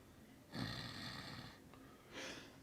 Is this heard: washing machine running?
no